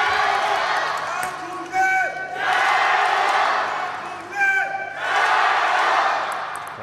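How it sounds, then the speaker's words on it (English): Table tennis crowd roaring and cheering for Wang Chuqin in two loud sustained surges, with sharp whoops and shouts rising between the swells of noise. "Crowd getting right behind Wang Chuqin again"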